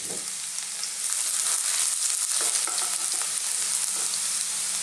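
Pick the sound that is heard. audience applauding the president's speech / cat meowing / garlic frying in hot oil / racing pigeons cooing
garlic frying in hot oil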